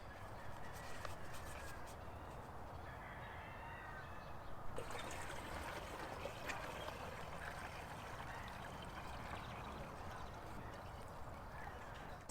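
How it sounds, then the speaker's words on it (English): Rainwater poured from a bucket through a filter into a garden sprayer tank makes a steady, faint trickling stream, with a brief rattle partway through and ducks quacking in the background. "I've taken my bucket of rainwater and I'm passing it over the filter to keep out any hard"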